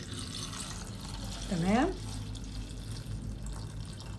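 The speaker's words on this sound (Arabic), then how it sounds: "وهبدا اضيف بقى لتر ميه او كوبايتين ميه كبار" Water from a tap pours steadily into a pot, about a litre, for brewing green tea as a hair remedy, a soft running wash with a brief spoken word midway.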